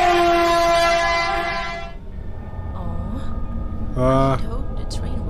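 Train in a Minecraft horror map sounds a loud blaring horn that cuts off, then rumbles on through a noisy stretch before a second short horn blast, with speech mixed in.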